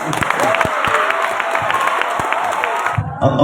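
Audience applause at a church debate, a dense burst of crowd clapping with scattered whoops, loud and close, cutting off abruptly near the end.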